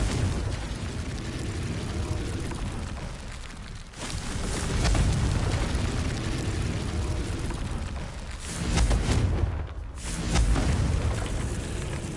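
A Confringo fire explosion spell cast in the Hogwarts Legacy video game, with a sustained, loud rumbling blast that dips briefly and then surges again, like a roaring burst of flame, with no speech.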